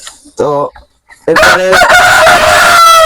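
A home-raised rooster crows loudly and close by, a short call followed by a long full crow, with someone speaking briefly between them.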